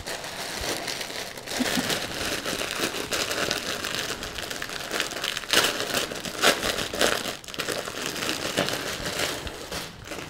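Plastic packaging from an AliExpress Halloween haul crinkling and rustling steadily while being opened, close and fairly loud, with irregular crackles and tearing bursts throughout.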